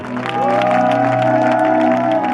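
A church congregation applauding and acclaiming the Lord, a dense, sustained wash of clapping and raised voices filling the room, loud and continuous, with a held sung or shouted tone riding over the noise.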